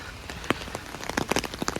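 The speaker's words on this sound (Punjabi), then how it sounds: "ਯਾਨੀ ਕਿ ਮੀਂਹ ਖਾਸਾ ਪੈ ਰਿਹਾ" Winter rain in Italy pattering on an umbrella while walking under trees, dense irregular taps of drops striking the fabric close overhead.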